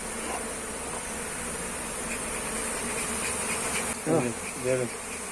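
Honey bees hum steadily at a beehive, a dense close buzzing that runs throughout, with two louder passes near the end.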